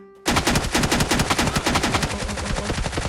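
Rapid automatic gunfire in the video game PUBG Mobile, a loud, close burst of rhythmic shots that keeps firing in a fast stream for about three seconds.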